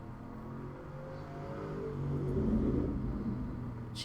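A truck revving its engine hard somewhere outside, a low distant rumble that swells midway and then eases off, faint and muffled, with no talk over it.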